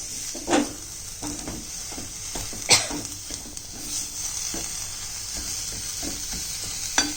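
Radish and coriander mixture being stirred in a hot pan: steady sizzling and frying with intermittent scraping strokes of the spoon, close and moderately loud, no talking.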